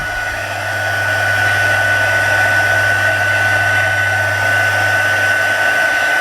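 A heat tool drying a book picture transferred onto fabric, a loud, steady blowing whir with a constant high whine and low hum, close and continuous after a brief start-up, with no speech.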